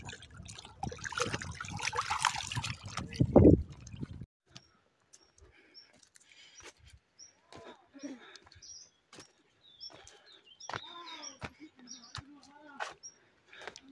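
Cold water near Dhap Dam splashes and trickles loudly and close for about four seconds. Quieter stretches follow, with faint bird chirps.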